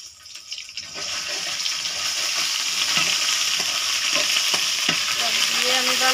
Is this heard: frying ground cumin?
yes